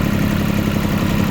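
A Japanese Iseki TU-185 mini tractor with a front-mounted snow plow runs with a steady low diesel chug and even mechanical rumble, close by and alone.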